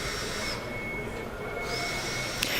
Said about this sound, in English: there are odd noises and bings and bongs and bangs and a vacuum going